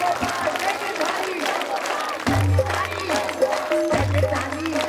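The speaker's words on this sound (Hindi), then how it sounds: "सभी ताली बजा करके कीर्तन करेंगे 2 मिनट का।" A group claps hands in steady rhythm during a devotional kirtan, the claps sounding alongside chanting voices and a sustained droning tone that swell louder partway through.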